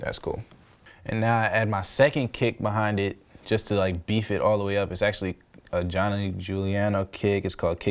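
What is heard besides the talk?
None of the usual background noises is heard.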